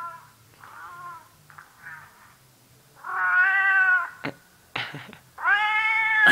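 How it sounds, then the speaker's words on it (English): Recorded cat meows play from a phone ringtone. Several loud, drawn-out meows and wails come in bursts between quieter mewing, broken by a couple of sharp clicks. "Cat meow, you okay?"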